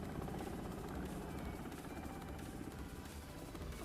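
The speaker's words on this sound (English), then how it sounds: "A helicopter!" A helicopter in an Arknights anime episode drones loudly and continuously with a dense, chopping roar that fills the whole stretch without pause.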